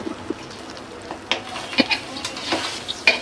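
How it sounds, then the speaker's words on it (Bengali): Pieces of an 11 kg catla fish fry in hot oil, a steady soft sizzle broken by irregular pops and the scrape of a spatula stirring and turning them. "আমি মাছগুলো ভাজি করতেছি।"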